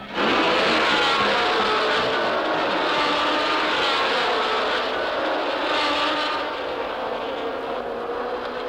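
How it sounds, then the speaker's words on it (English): A green and yellow Lotus 49 Formula One race car with a Ford engine of about 400 horsepower roars past, loud and sustained, a dense, continuous engine blare that holds for the whole stretch with no talking. "Jim Clark would lead all 10 Grand Prix that he raced in with the green and yellow Lotus 49 and win 5 of them"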